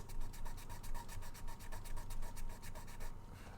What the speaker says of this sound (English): Just a lot of sanding now.